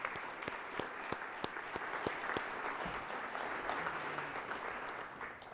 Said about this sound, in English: And one more big round of applause for our speakers